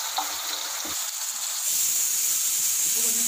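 Onions sauté in a pan for pepper chicken, giving a soft, steady sizzle and hiss that grows slightly louder partway through.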